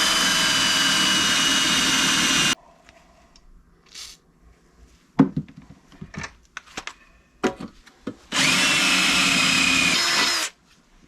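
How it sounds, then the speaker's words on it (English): An old blue Ryobi drill boring a 3/8 inch hole during unibody repair on a Jeep Cherokee, loud whining bursts at start and end separated by quieter clunks and handling noises. "3/8 inch hole on an old school Ryobi blue drill."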